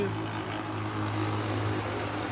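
From a campsite, a loud car on a parkway sends out a steady low engine drone, continuous and somewhat distant, with no talking over it.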